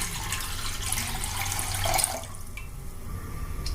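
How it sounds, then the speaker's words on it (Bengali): Two mugs of water poured into a wok: a near, rushing splash that swells briefly, then fades to a quieter trickle. "কড়াইটা চাপিয়ে এবার এরকম মগে আমি 2 মগ জল এর মধ্যে দিয়ে দেবো।"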